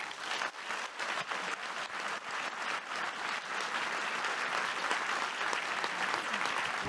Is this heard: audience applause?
yes